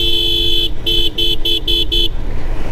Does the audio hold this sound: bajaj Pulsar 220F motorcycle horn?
yes